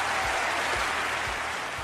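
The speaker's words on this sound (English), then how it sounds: "So I'd like a round of applause for them" Sustained applause from an audience at an awards-style event, dense and steady clapping throughout.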